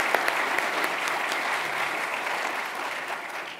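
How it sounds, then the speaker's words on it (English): Steady, dense applause from a large audience at a university Founders' Day honors convocation, holding at an even level for the whole stretch with no voices rising above it. "let's have one more round of applause"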